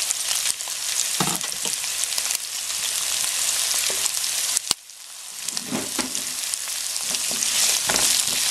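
Carrots and mushrooms sizzle loudly in a hot pan for yakisoba, a continuous frying hiss with stirring scrapes and a brief dip midway before the sizzle swells again.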